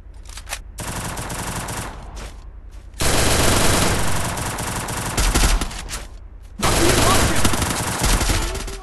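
Rapid automatic gunfire from a shooter video game, sustained loud bursts broken by short pauses, with faint talk underneath.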